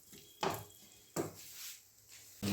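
Cashew-raisin paste is fried and stirred in a pan, heard as three sharp scraping clatters of a spoon against metal over a quiet background sizzle, with no voice.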